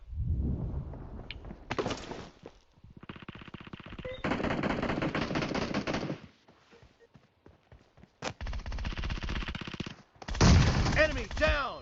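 Rapid bursts of automatic gunfire from the PUBG Mobile battle game, loud and close, come in several sustained volleys separated by brief lulls and scattered single shots.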